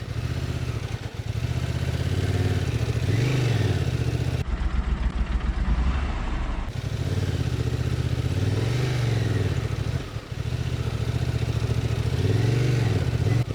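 A Honda Transalp 750 motorcycle ridden off-road through sand, its engine droning and revving in steady waves with rising and falling pitch, close and loud, with a short break in the middle and no speech.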